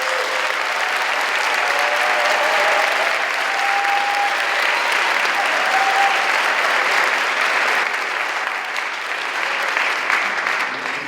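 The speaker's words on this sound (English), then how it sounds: "Let's give her a round of applause." Steady, sustained applause from a concert audience at a high school choral winter concert, honoring the accompanying pianist; dense, even clapping fills the hall throughout without letting up.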